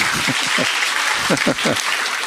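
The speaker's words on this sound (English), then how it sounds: "Yeah, don't applaud me. Applaud Sir Isaac Newton." An audience at a spiritual talk applauds in a brief, steady burst, with low voices or laughter woven through the clapping.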